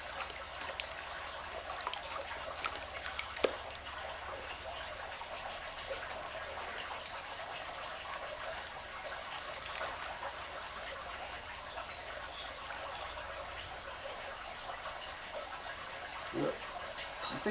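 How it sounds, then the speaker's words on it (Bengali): Water pours and trickles steadily as soil is washed off the roots of a rose plant, a close, continuous splashing wash with faint background noise. "পুরো মাটিটাকে ধুয়ে নিতে হবে।"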